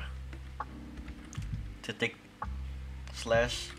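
A single key press on a computer keyboard while working in Linux, with soft clicks over steady low hum and a voice speaking briefly near the end.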